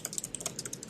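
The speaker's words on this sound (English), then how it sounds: "Whoever was typing," Computer keyboard typing, a steady run of quick, crisp keystrokes at close range with no talking over it.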